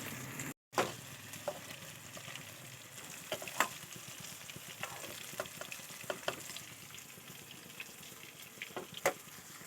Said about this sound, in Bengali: ফুলকপি ভাজা হয়ে গেছে আমি এখন তুলে নেব